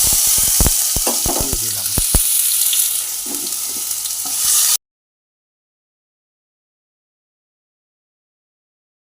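Tomato paste goes into a hot pan for a pabda fish curry: a bright, close sizzle with a few sharp utensil knocks at the start, while a voice speaks briefly, then it cuts off abruptly halfway through.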